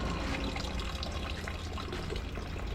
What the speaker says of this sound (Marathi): आम्ही एका पंपावरनं पाणी घेतलं